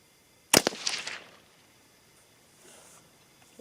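A single sharp rifle shot from a scoped precision rifle on a 100-yard target range, loud and close, with a brief echo trailing off into quiet.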